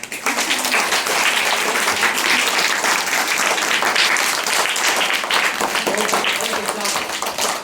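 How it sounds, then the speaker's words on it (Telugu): A crowd of listeners at a Raksha Bandhan talk claps steadily and loudly, a dense, continuous burst of applause lasting several seconds without a break. "అందరూ క్లాప్స్ కొట్టారు."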